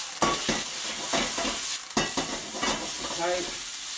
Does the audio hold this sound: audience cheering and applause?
no